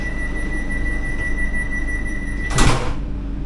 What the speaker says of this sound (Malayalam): നമ്മുടെ ഡോർ ക്ലോസ് ആവുമായി